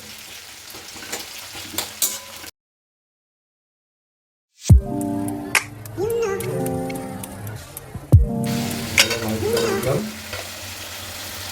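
Sliced onion with whole garam masala sizzling and being stirred in a pan, scraping stir strokes over a steady fry, with a brief gap in the middle and faint talk around it.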